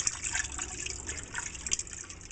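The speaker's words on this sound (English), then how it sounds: "I'm rinsing one more time." Pinto beans are rinsed in water, giving a soft, continuous sloshing and trickling close by with small splashes, fairly quiet and with no talk.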